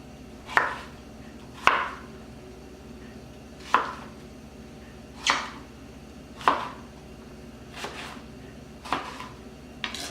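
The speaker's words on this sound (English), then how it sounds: "I'll cut them in half." Peeled white boiler onions being cut in half on a board, about eight sharp knife chops spaced roughly a second apart, crisp and close in a quiet kitchen.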